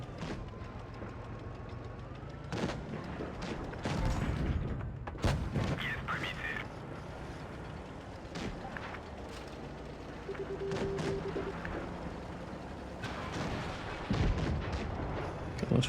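Tank guns fire in World of Tanks Blitz, a series of loud booming shots spread across the battle amid engine rumble and game sounds, with someone talking over them.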